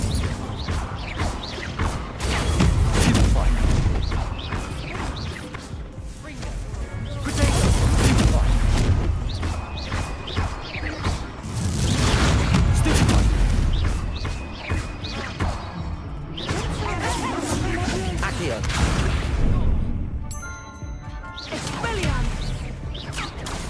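Hogwarts Legacy combat with spell casting, including the Incendio fire spell, comes through as dense whooshes, crashes and heavy impacts in long continuous surges with a game soundtrack underneath.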